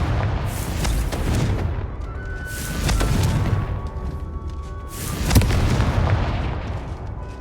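Repeated Confringo spell explosions from Hogwarts Legacy, three heavy booming blasts a couple of seconds apart, each with a rolling rumble over continuous game noise.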